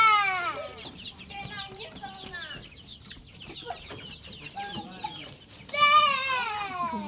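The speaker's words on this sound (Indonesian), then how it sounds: "Ayamnya ketawa." Chickens cluck and cackle repeatedly at close range in a backyard setting, rising into a loud burst near the end, with quieter stretches between calls.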